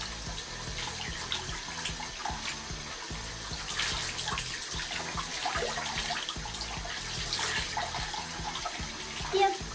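Water running from a tap while rinsing freshly dyed hair in cold water, a loud continuous splashing rush that stays steady throughout.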